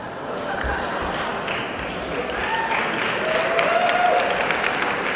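An audience claps continuously and fairly loudly throughout, a dense, sustained wash of applause with no gaps.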